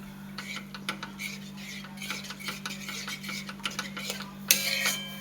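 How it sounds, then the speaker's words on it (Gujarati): Coconut laddu mixture being stirred in a pan with a metal utensil, giving steady scraping and clinking strokes against the pan under a low background hum, with a louder clatter near the end. "માપસર સતત હલાવતા રહીશું"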